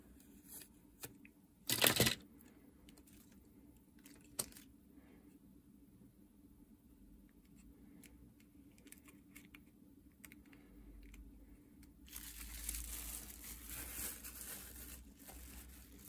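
Protective film being peeled off a Nintendo DS shell: a sharp crinkly burst early on, then quiet handling, then a longer, louder rasping peel near the end, close up with no talk.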